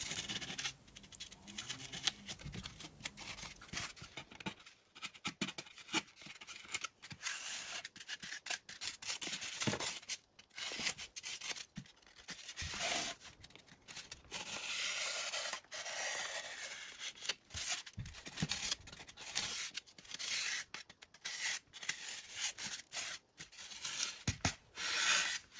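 A styrofoam chest being cut down and scraped out by hand, a long run of close, dry scratching and rubbing strokes in irregular bursts with brief pauses, fairly quiet and with no talking.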